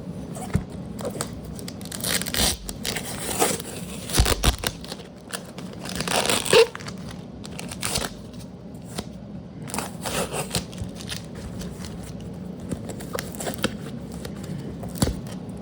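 Diecast toy car packaging being torn open by hand, with repeated close crinkling and ripping bursts of cardboard and plastic, irregular and fairly loud, no voices.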